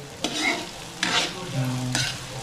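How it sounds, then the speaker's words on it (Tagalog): Hotdogs frying in hot oil in a pan, a steady close sizzle with three sharp stirring or turning bursts spaced about a second apart, no voices. "Nilagay na ng nanay ko ang hotdog"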